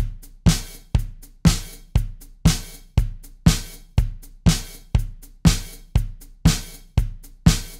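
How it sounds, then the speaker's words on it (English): A steady disco beat: a punchy kick on every beat with open hi-hats hissing on the offbeats, loud and perfectly regular. "lies in its beat, which is almost always a 4-to-the-floor affair where there's tons of open hi-hats for"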